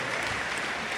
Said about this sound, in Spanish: Los aplausos, querido público.